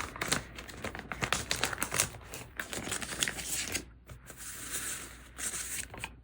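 A sheet of writing stickers is handled and peeled for planner decorating, giving dense crinkly rustles and small snapping peels close by, with a brief quiet gap midway before the handling resumes.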